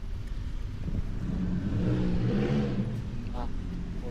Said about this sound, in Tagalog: Ah, kotse pala yung pala.